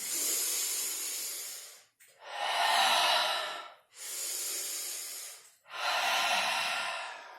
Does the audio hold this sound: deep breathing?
yes